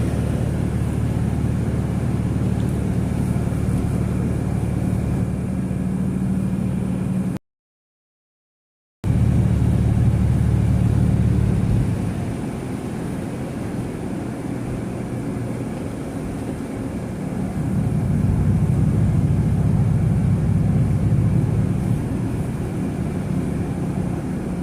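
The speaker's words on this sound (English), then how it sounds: "Hear the road noise through the door seals." Steady low road rumble and wind noise leaking through a car's door seals while driving in a winter storm at night, continuous and fairly loud with shifting intensity, no talking.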